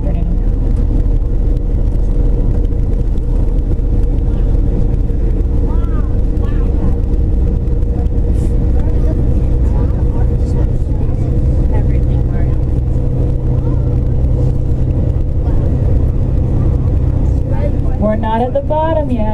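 Tour bus driving near the Zion Arch, its engine giving a steady low rumble throughout, with a guide talking over it for most of the time.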